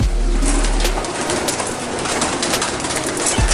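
A racing pigeon coos at a one-loft race loft, low throaty calls repeating over a busy, rustling background of other birds, close and fairly loud, with no talking.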